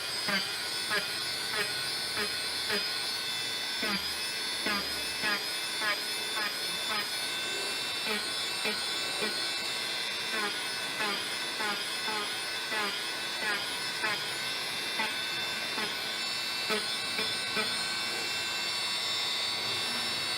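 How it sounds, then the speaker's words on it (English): A Dremel rotary tool smoothing down the edge of a piece for a Batman cosplay utility belt, a continuous high whining buzz with steady pitch running through the whole stretch, fairly close. "so I'm going to go ahead and take that down. And to do that, I'm going to use a Dremel."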